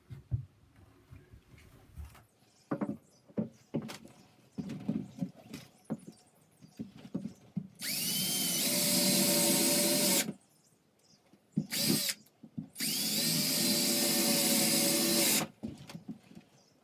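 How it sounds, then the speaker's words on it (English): Power drill driving screws into a tongue-and-groove subfloor panel during a BBQ mobile kitchen build, two long loud whirring bursts with short pauses, amid quieter knocks and handling sounds. "Now we just have to join the tongue and groove seam and then put some screws in."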